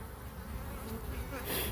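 A honeybee colony buzzes densely and close up while the bees maul a wasp, a constant insect drone swelling slightly louder near the end.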